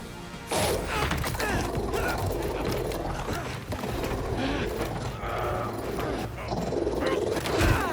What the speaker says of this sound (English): Nice doggy, kitty, robot.